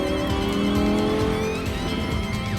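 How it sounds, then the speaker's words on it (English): A Lamborghini Huracan, rear-wheel drive, is pushed hard on a mountain road, its engine holding a loud, steady high-revving note with shifting pitch and a brief squeal of tires near the end. "once you're up here, you can really push a car like a Lamborghini Huracan"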